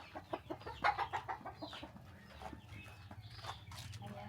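Several chickens cluck and chatter nearby, busy overlapping calls in irregular bursts, with faint background voices.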